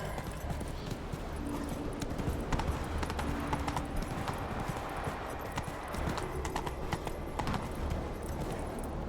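A horse gallops in The Witcher 3: Wild Hunt, its hooves drumming in a fast, continuous rhythm, close and loud over a constant rumble of game ambience.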